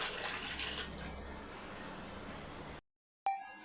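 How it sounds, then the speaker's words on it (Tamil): Water poured into a pot of village-style chicken curry with ground roasted pepper, cumin, fennel and fenugreek paste, a steady close splashing pour lasting nearly three seconds, then a brief silence and a faint clink. "அதை சேர்த்துட்டு தண்ணி சேர்த்துக்கலாம்"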